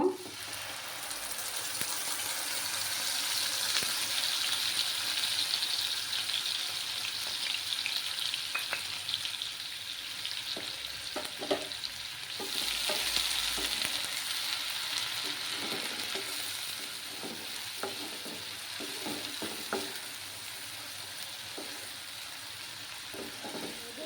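Onion paste frying in hot oil in a pan, a continuous bright sizzle with intermittent scraping and stirring knocks of a spoon, steady and close with no talking.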